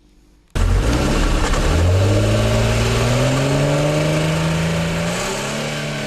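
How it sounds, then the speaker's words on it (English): A drag race car on a quarter-mile strip in Fiji starts up abruptly. Its engine then revs hard and climbs in pitch, staying loud and close throughout. "Stiff competition is expected in one of the last quarter-mile drag races of the year"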